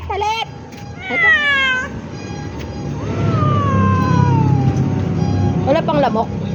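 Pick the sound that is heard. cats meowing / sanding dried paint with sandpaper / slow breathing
cats meowing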